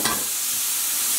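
Mushroom pot pie filling stirred in a hot pan, a brief close burst of sizzling and scraping with a steady hiss throughout.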